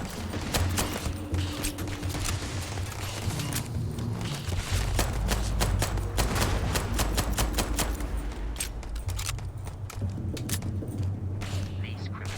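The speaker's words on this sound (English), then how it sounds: "I am sniping with a pistol." Pistol fired repeatedly in the game Starfield: a dense run of sharp, irregular shots over a low engine-like rumble, with a voice talking alongside.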